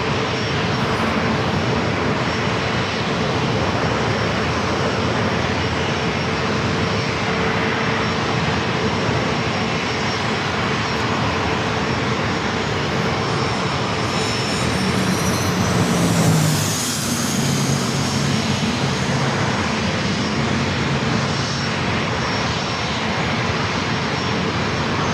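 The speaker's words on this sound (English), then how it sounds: "Even more corporate flights heading over here to runway 27." A corporate jet on approach to runway 27 at San Diego airport, its engine roar steady and broad, swelling slightly near the middle as it passes, with no voices.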